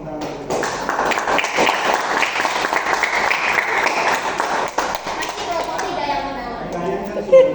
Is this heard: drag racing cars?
no